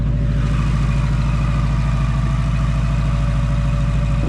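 A 2024 Mustang GT with a Whipple supercharger idling as it warms up: a steady, deep, loud rumbling burble with a faint high whine above it, close and unchanging throughout.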